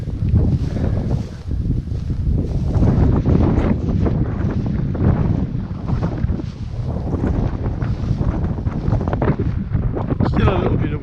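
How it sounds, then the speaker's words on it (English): Wind in Galloway Forest Park near Curleywee, gusty rumbling buffeting against the microphone, continuous and loud, with no clear talk. "Still a little bit of wind down here"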